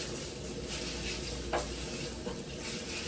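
Cooked pasta is stirred into a sizzling garlic butter sauce in a pan on the stovetop, giving steady frying crackle with soft scraping and stirring movement, close up and continuous.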